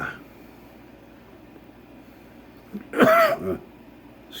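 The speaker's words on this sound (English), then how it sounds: "I've been coughing a lot all night lately." A person coughs a couple of times in a short, loud burst near the mic, after a quiet stretch with faint background hiss; the setting is an indoor lighter demonstration.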